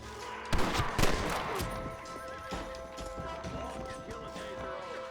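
Gunshots ring out in Red Dead Redemption amid galloping horse hooves and clip-clop, a few sharp cracks in the first seconds over a busy Western game soundscape with music.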